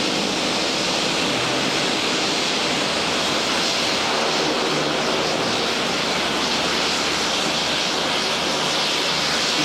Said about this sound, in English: Taxiing back, is going to use the full extent of the runway.